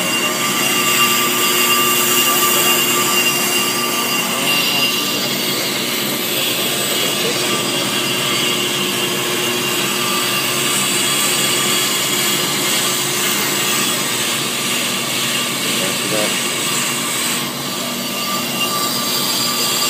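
A brake lathe turns a brake rotor with a loud, steady mechanical whine and hum that holds evenly for the whole stretch. The sound is close and continuous, with no talking.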